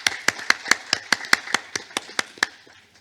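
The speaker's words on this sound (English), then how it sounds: "Please give him big applause." Applause at a U.S.-Korea ESG forum webinar, heard as one pair of hands clapping about a dozen times in a steady, even rhythm, each clap sharp and close, fading slightly toward the end.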